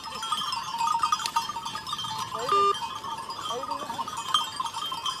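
Sheep from a flock of about fifteen bleat out in the field, several calls at a moderate distance over a steady outdoor background, with a voice talking faintly now and then.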